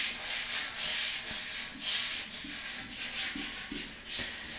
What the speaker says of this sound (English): Wow, this sandpaper clogs up, huh?